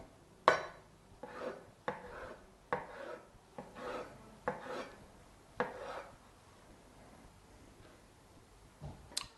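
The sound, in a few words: knife cutting vegetables on a board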